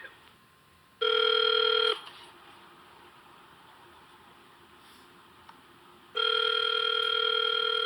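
A telephone ring tone sounds during a call transfer, two loud steady electronic rings separated by a long quiet stretch of line hiss.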